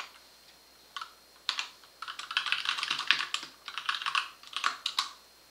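Typing on a computer keyboard to enter a message, a steady run of quick, close key clicks in bursts with brief pauses, heard alone without any talking.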